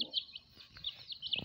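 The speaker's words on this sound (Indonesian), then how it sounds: "Ini dia ayam rembo." Repeated high clucking and chirpy calls from rainbow chickens, moderately close, in short bursts over a low background murmur.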